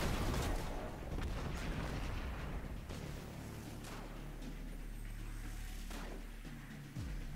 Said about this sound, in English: See that Vandal shooting at my body and I'm already dead?